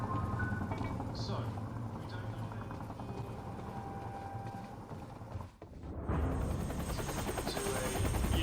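A helicopter in the game Quantum Break drones steadily throughout with a low rotor rumble, briefly dipping before returning at full strength.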